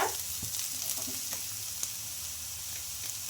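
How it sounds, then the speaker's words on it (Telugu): Onions fry in a pan until light golden brown, giving a close, steady sizzle with a few light stirring clicks early on. "కొద్దిగా లైట్ అండ్ బ్రౌన్ కలర్ వచ్చే వరకు ఫ్రై చేసుకోవాలి"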